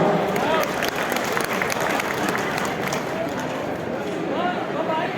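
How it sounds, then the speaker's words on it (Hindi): An audience at a gathering breaks into lively applause, a dense crackle of clapping mixed with crowd murmur and voices talking underneath. "मुझे लिए ताली बजाइएगा"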